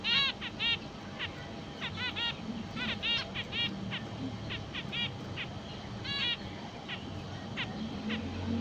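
Pet finches, a breeding pair, call in repeated short chirps and trills in bursts over a steady background hum, moderately near and fairly quiet.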